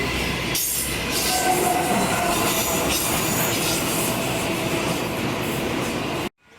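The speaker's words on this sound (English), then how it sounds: "We have an 8-car Oscar train arriving into platform number 2 for a Hamilton Newcastle service." An 8-car Oscar electric train pulls into a station platform at Koolewong, with continuous rumbling wheels, clicking rail joints and some squeal, fairly close and steady throughout.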